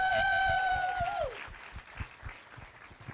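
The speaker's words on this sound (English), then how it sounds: "let's have a round of applause for the panelists and for Aaron Ludin for putting this together" An audience at a real estate masterclass session applauds the panelists, steady clapping under a fading tonal sound at first, then thinning into scattered claps.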